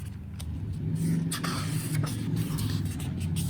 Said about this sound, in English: These noisy motorbikes.